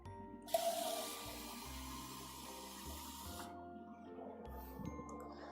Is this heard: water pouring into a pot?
yes